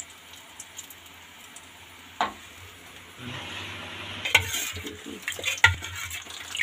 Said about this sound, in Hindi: मथानी नहीं है, जिसके अभाव में इस एक कटोरी से इस दही को मथा जा रहा है